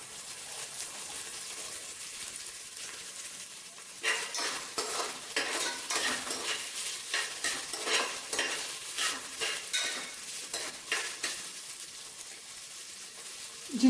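Chopped green chillies frying in a pan for chicken biryani, a soft sizzle at first, then a run of quick clattering stirs and scrapes of a utensil against the pan, close and fairly quiet, with no talking.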